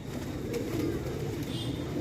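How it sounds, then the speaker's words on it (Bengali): A flock of trained pigeons coos softly nearby, low throaty murmurs repeating over a steady background hum during a short stretch with no talking. "মোট 13টা পায়রা।"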